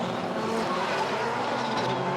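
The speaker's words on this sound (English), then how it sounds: "Vaughn spins out." A drift car at the 2005 Formula Drift finals in Irwindale spins out, its tires squealing in a steady high screech over engine roar, loud and continuous.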